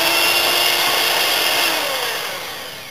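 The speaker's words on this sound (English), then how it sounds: "I'm going to take my 2 egg yolks and egg white and whisk this as well." A loud, close electric whisk runs continuously at a steady high whine as it beats two egg yolks and an egg white, then fades slightly toward the end.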